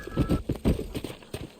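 Horse hooves clip-clopping in quick uneven beats across dirt in Red Dead Redemption, close and moderately loud, with no talk over them.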